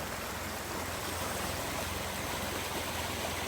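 A mountain valley stream in dense forest rushes steadily, a loud continuous broadband wash of flowing water with no breaks.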